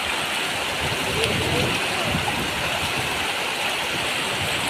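Water of an outdoor stream rushes and gurgles in a continuous close wash of noise, steady from start to finish.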